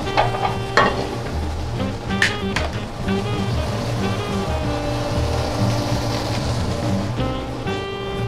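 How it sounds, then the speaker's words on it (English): Artichoke and sun-dried tomatoes sautéing in a pan give a loud, continuous sizzle and crackle, with a few sharp utensil knocks early on and a tonal hum underneath, heard close with no speech. "We're going to start here by sauteing the artichoke sun-dried tomatoes"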